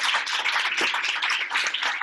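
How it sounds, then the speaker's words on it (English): A dense, steady round of applause from an audience at a business presentation fills the whole stretch, loud and close, with no voices over it. "give Tishina a round of applause one more time"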